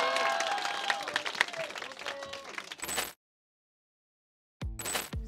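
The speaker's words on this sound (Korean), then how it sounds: "박수." Audience applause in a studio at a semifinal drum competition, busy crowd clapping with bits of cheering that cuts off abruptly, followed by silence and then a short burst of edited sound.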